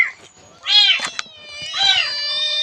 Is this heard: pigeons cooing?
no